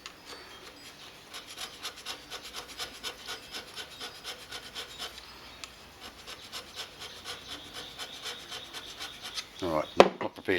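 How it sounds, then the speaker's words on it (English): A metal milling table surface from a milling table and vice combo restoration is scraped by hand in steady, rhythmic rasping strokes, close and moderately quiet, ending with a sharp knock. "I'll give it a little scratch and you can see"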